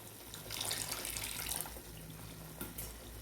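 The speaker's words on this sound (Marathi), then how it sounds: "आता ह्याच्यात थोडंसं आपण पाणी घालून घेऊया गरम पाण्याचाच वापर करायचा आहे" Hot water pours steadily into a curry with a splashy, tap-like rush that swells and fades, then a brief louder splash near the end; no voices.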